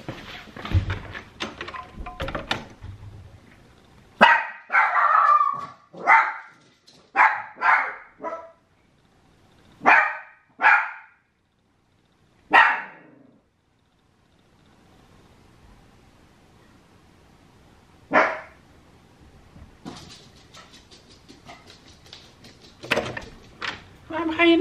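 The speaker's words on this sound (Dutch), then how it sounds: "Die Rafi gaat zo maar eens hoor bluffen omdat ik wegliep" A dog barks in short bursts, several loud close barks in a row then scattered ones, after its owner has left, with a person speaking at the start and end.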